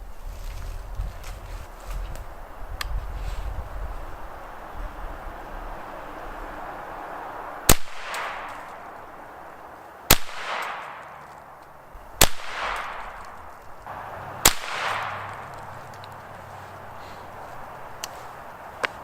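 Four sharp gunshots from a .22 LR rifle loaded with CCI SGB ammunition, fired at a clay target outdoors, spaced about two to three seconds apart, each a crisp crack with a short ringing tail over faint wind.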